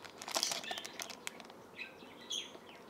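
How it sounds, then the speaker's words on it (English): Birds chirp in the background while a small box of trading card game items is unpacked indoors, with faint high tweets and brief rustling, crinkling handling sounds, all fairly quiet and no talking. "Ignore the birds in the background. They will do what they do, which is make noise."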